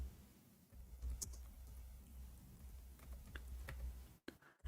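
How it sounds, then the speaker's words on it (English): Faint, uneven keystrokes of typing on a computer keyboard, entering an Arabic search, with scattered clicks over a low background hum and a brief cut near the end; no one speaks. "No, I'm typing in Arabic."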